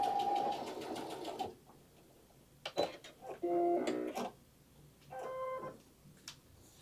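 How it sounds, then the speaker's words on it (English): Sewing machine fitted with a Teflon foot stitching through faux leather, a steady whirring run at the start followed by shorter bursts of mechanical stitching with pauses between. "look what that Teflon foot, it just sews through it like it's butter"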